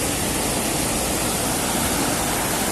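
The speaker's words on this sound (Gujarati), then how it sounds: "આજે નેક્સ્ટ જે બીજો જે ધોધ છે તે આ છે" Devghat waterfall at Umarpada roars steadily and loudly, a dense, unbroken wash of falling water with no pauses or other sounds.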